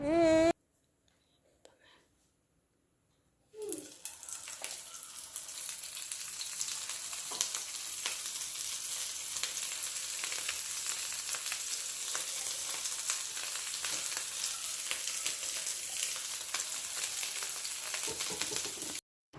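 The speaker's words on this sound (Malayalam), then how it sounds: "അതിനുശേഷം ഇതെല്ലാം കൂടി എടുത്തൊന്ന് ഫ്രൈ ചെയ്തെടുക്കണം കേട്ടോ നമ്മൾ." Baby food patties shallow-fry in coconut oil, first a brief voice and a near-silent pause, then a loud, close, continuous sizzle and crackle that holds steadily to the end.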